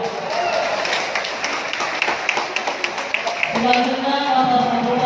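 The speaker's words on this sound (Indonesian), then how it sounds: "untuk hadirin yang berikan tepuk tangan yang meriah" Audience clapping at the closing ceremony of a boxing championship, the KAJARI Cup 2019, a steady patter of many hands with sharper individual claps, followed by a crowd murmur as the applause fades.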